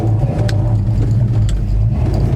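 A 1968 Dodge Charger with a smaller engine than a 383 or 440 runs close by, giving a loud, deep, steady rumble with slight swells and no talking.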